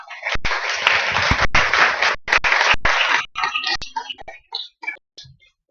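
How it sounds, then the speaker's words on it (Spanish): An audience at an awards ceremony applauds the panel table. A loud, dense burst of clapping thins into scattered individual claps and fades away. "Bueno, primero pido un aplauso, por favor, a la mesa."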